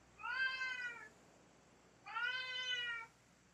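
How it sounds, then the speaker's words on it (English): A pet cat gives two loud, drawn-out meows about a second apart, close by and alone with no talking. "how loud is my cat?"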